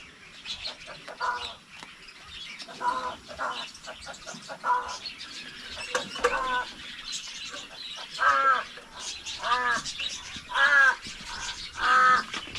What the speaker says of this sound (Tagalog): Tapos yung alaga ating uwak nasa kulungan.